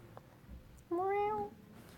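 A cat gives a single drawn-out meow, rising then falling, clear and close, after a quiet stretch of low room noise with faint rustles.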